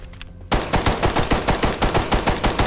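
Rapid automatic gunfire in Veiled Experts, a loud burst starting abruptly after a short quiet lead-in and continuing as an evenly spaced string of close shots.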